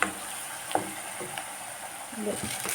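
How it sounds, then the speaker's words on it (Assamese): Onions fry and brown in a pan for a chicken dish cooked without water or potatoes, a soft steady sizzle with a few light stirring taps and faint voice-like sounds in the background. "পিঁয়াজখিনি লাহেকৈ খুব ধুনীয়াকৈ ব্ৰাউন কালাৰ হৈ আহিছে"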